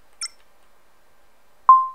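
A short high chirp, then after a pause a single louder electronic beep with a steady tone that trails off, in the game Kerbal Space Program.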